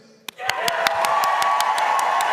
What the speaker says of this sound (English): So, by round of applause, who loved Jeremy's?